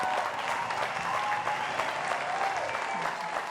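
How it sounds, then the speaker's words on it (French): Dense, steady audience applause at a live children's variety show, with many hands clapping together close and loud for the whole stretch and a faint crowd murmur underneath. "Encouragez-le, applaudissez, s'il vous plaît."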